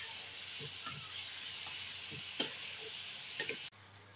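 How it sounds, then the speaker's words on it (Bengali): Pointed gourd and prawns cooking in a pan give a faint, steady sizzle with a few soft scrapes and taps from stirring, and then the sound drops off abruptly near the end. "এটাকে ভালোভাবে নাড়াচাড়া করে নেব।"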